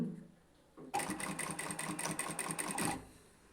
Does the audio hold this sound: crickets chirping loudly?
no